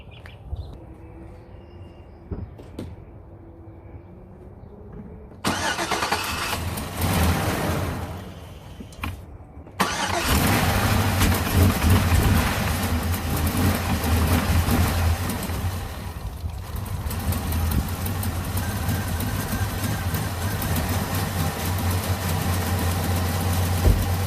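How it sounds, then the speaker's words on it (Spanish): A Chevy Blazer that won't start is cranked: a quiet stretch gives way to a burst of engine noise, then the motor catches and settles into a loud, steady, slightly uneven idle that runs on without talk. "Voy a dar marcha y vamos a ver qué es lo que hace el motor."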